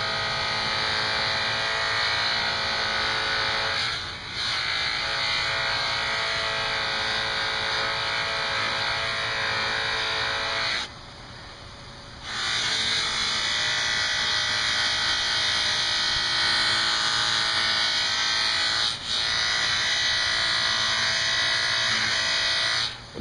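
A motorized buffing wheel polishing the blade of a Kershaw Cyclone 1630 knife, a loud continuous whine and hum held for over twenty seconds, with brief dips as the blade comes off the wheel; no talk.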